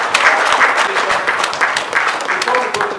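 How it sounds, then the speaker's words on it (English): An audience at a book launch event in Nigeria gives a round of applause, steady dense clapping from a crowd, fairly loud and sustained throughout, with voices mixed in. "Let's give ourselves a good round of applause"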